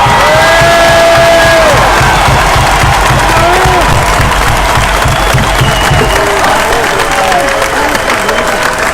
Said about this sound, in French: Applaudissons pour nos héros, tous ensemble.